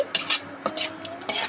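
Three dried red chilies and a half teaspoon of Bengali five-spice fry over very low heat in a pan, heard as a quick run of close scrapes and clinks of a spatula against the pan with a faint sizzle underneath.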